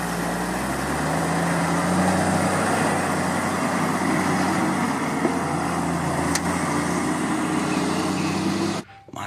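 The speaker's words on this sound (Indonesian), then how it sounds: "Wah, mobil dump truck besar," A big dump truck's engine drones with a low, steady rumble and road roar, fairly loud and constant, with a brief sharp click midway before the sound stops suddenly at the end.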